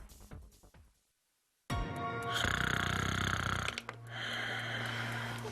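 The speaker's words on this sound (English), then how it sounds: "You're snoring. It's really bad tonight." A person snores loudly and close, a raspy rattling inhale after a brief silence, then a droning snore that continues into a lower, steady breath, heard on its own without talk.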